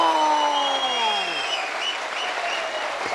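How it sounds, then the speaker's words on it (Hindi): Applause at an award gathering where a shield is presented, a full sustained roar of many clapping hands from a crowd, loud and continuous, with a voice speaking over it at the start. "तालियां बजाओ भाई"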